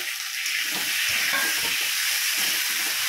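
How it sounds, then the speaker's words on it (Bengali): Spice masala frying in a pan for egg curry, with a continuous bright hiss and sizzle and a few soft low stirring bumps, close and steady. "এই মশলাটা দিয়ে দিলাম মশলাটা ভালো করে একটু কষিয়ে"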